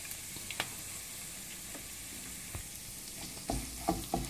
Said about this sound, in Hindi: अब ये प्याज जो है ये ट्रांसल्यूसेंट होने तक आप इसको अच्छे से भून लीजिए।